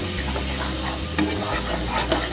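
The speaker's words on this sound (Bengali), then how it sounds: "ভালো করে একটু মশলাটা কষিয়ে নেব।" Spice paste (masala) with Kashmiri chilli powder frying in a pan for a Bengali doi begun, a steady close sizzle with the scrape of a spoon stirring and a couple of sharper clinks against the pan.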